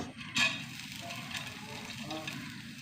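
Whole coriander seeds roasting in hot oil in a pan, a soft steady sizzle and crackle with a small clatter near the start, fairly quiet throughout.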